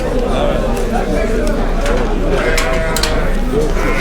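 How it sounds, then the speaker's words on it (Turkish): Several Kıvırcık lambs bleat close by at a livestock market, overlapping calls over a busy barn background, with people talking nearby. "Evet arkadaşlar kuzularımız bunlar."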